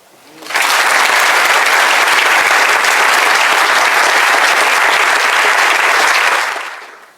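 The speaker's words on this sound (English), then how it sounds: "Keep clapping." An audience at the close of a university inaugural lecture on democracy gives loud, sustained applause, a dense even wall of clapping that swells in, holds for about six seconds, then fades out.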